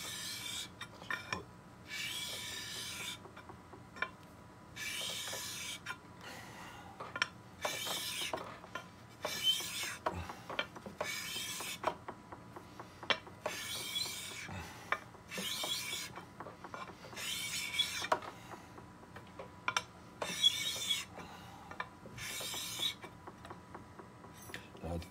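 A glass crystal clarinet mouthpiece has its table refaced by rubbing on an abrasive surface, a quiet rhythm of repeated rasping strokes, each about a second long, with short pauses between them.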